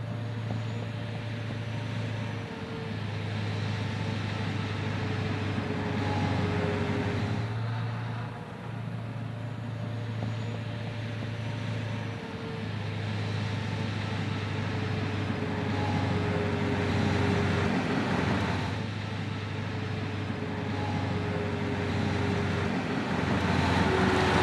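A Deutz-Fahr Agro XXL articulated eight-wheel tractor drives past with a steady low engine drone, rising and falling over time with recurring swells, heard from a moderate distance with no talking.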